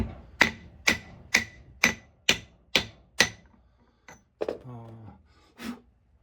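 Gentle hammer taps on a tractor kingpin seal during a CASE IH 275 compact tractor repair: six evenly spaced, sharp metallic strikes, then a few scattered lighter knocks and a brief voiced sound, close and clear in a quiet space.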